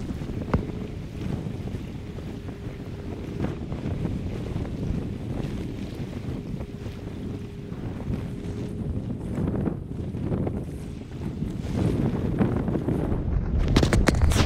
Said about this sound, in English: So the wind's coming in.